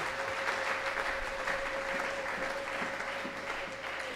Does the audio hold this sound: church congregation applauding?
yes